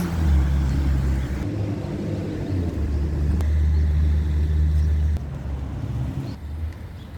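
A school bus rumbles past on a seaside street near small houses, a loud low engine drone that swells and then fades away.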